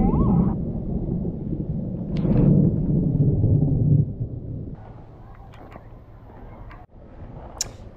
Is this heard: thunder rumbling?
yes